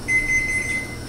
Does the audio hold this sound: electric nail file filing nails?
no